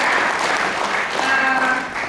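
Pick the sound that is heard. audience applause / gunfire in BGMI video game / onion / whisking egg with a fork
audience applause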